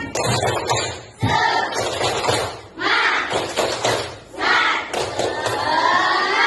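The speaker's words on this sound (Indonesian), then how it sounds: "Baik, sebelum kita mulai belajar, kita tepuk semangat dulu yuk. Tepuk semangat." A Year 5 primary school class does the tepuk semangat clapping chant. Loud group shouts alternate with bursts of rhythmic clapping and thumping, with a few short pauses between phrases.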